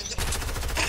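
A burst of rapid gunfire from the battle-royale game Fortnite, sniper shots and weapon fire cracking close and loud in quick succession.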